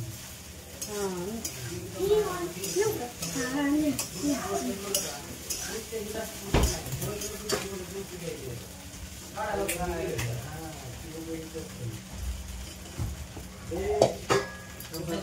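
A spoon scrapes and stirs sago around a large wok over a soft sizzle, with occasional clinks of metal, while people talk throughout.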